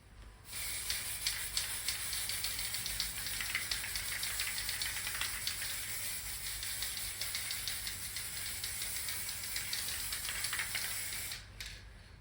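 An aerosol spray paint can hisses in a long continuous burst, close and steady, with slight pulsing, stopping abruptly near the end.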